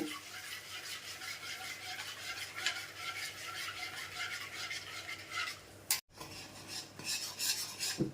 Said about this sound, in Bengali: ভালো করে যে দই ফেটিয়ে রেখেছিলাম সব মশলা দিয়ে এবার দিয়ে দেব। খুব করে নাড়া দেব।